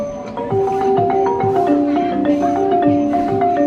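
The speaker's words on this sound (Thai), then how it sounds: "ฟังเสียงระนาด" A ranat, the Thai xylophone, plays a lively run of bright struck notes with ringing tones, steady and fairly close, at an exhibit of Thai palace dolls, with a faint voice in the background.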